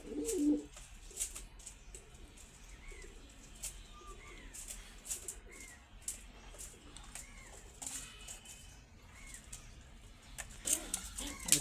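A pair of Giribaj pigeons coos softly, several short rolling coos spaced through the clip, with quiet rustling and faint background noise around them.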